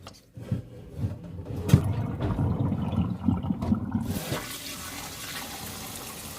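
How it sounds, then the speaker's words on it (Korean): Cold tap water runs steadily while beef short ribs are rinsed under it, with splashing and handling noises before the flow settles into a continuous rushing stream. "찬물에 핏물 뺀 고기를 이렇게 흐르는 물에 뼈가루 같은 거요, 뼈 부분, 기름진 부분 이렇게 깨끗이 씻어줍니다"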